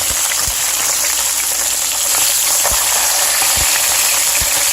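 A salmon fillet searing in a hot pan gives a loud, steady sizzle and crackle that runs throughout, with a few soft pops, no talking.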